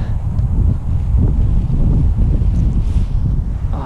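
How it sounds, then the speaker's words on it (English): Strong gusts of Santa Ana wind at a local park buffet the microphone with a steady, loud low roar that swells and eases across the whole stretch, with no voices over it. "You hear the wind?"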